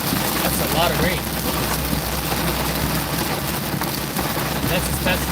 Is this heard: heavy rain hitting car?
yes